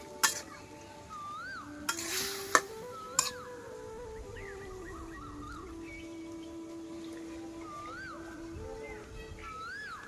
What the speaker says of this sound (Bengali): নেড়েচেড়ে মিশিয়ে নিয়ে আমি মশলাটাকে খুব ভালোভাবে একটু কষিয়ে নিব বেগুনের সাথে